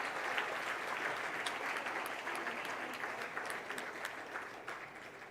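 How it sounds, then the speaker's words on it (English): A large convention audience applauds award winners at a national management event, a steady, dense wash of clapping that holds evenly for several seconds with no voices over it. "please give a huge, big round of applause for all the winners"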